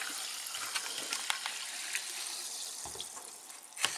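Soda pours into a glass in a steady fizzy, splashing stream lasting a few seconds, with small clinks and bubbling bursts, no voices over it.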